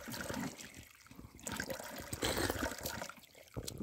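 Water from a hillside spring runs and trickles steadily, a close, continuous splashing flow with small fluctuations and no talk over it.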